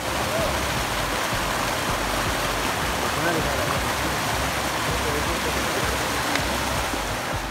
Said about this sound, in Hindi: यहाँ पर पानी बह रहा है, इतना मज़ा से नदी है यहाँ पर